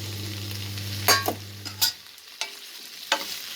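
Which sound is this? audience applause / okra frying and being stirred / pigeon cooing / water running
okra frying and being stirred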